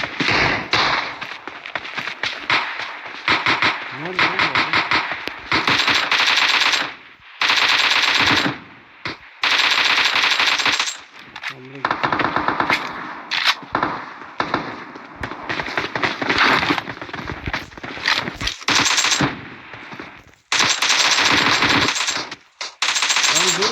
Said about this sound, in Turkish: Biri tabancayla atış ediyor.